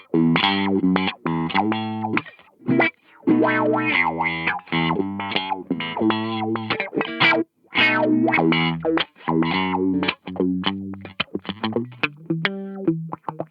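A Zvex Super Seek Wah pedal sweeps a glissando of choppy, stepped synth-like notes that shift from a square-wave buzz toward a smoother sine tone, played alone with short gaps between phrases.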